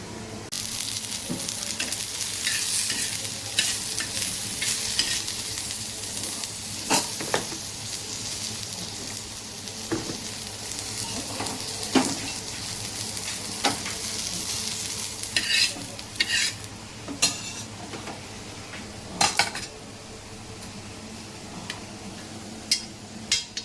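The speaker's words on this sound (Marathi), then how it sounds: "आता फक्त आपलं अद्रक फ्राय करायचं राहिलं, ते पण आपण फ्राय करून घेणार आहोत." Ginger frying in a pan while it is stirred, a steady close sizzle with scattered scraping clicks and ticks from the utensil running throughout, no one talking.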